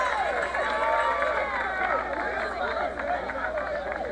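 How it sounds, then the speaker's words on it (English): Football stadium crowd at a college game roars steadily, a dense, continuous wash of distant cheering voices with no individual speech standing out. "the crowd is going wild"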